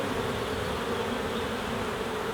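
Honeybees from a crowded swarm hive buzz in a dense, continuous drone, close and steady, with no voices over it.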